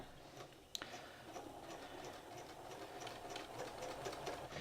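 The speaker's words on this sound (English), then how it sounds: "I'm going to stitch my first row of stitching a 1/4 inch away from the edge of my sleeve cap." A sewing machine stitches a gathering row a quarter inch from the edge of a shirting-fabric sleeve cap, a steady close whirr that starts after a sharp click and runs on alone.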